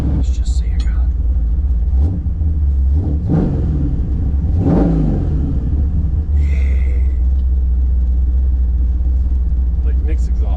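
A C10 longbed truck engine revving through its custom exhaust, loud and close, with a deep steady rumble broken by several rising and falling revs, then settling back to a heavy idle.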